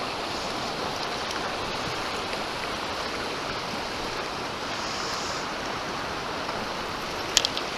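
Fast water rushes steadily through rapids on the Hellyer River on Tasmania's west coast, a loud, even broadband roar with no break and no voices.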